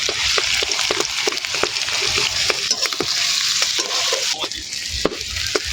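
Onions frying in a pan for a desi chicken dish, with a loud, close sizzle and rhythmic scraping and knocking from stirring throughout, with no talking.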